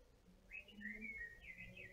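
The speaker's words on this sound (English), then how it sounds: "Don't know if you can hear that lovely bird song behind me." Bird whistling song outdoors during a pilates session, a few clear rising and falling phrases in close succession, moderately loud over a soft background hum with no talk.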